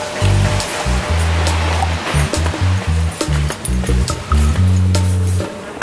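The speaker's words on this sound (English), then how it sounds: "you walk right out of the hotel and there's the beach" Surf rolls in on the beach just outside a hotel in Jamaica, a steady close wash of waves with irregular low thumps from wind buffeting.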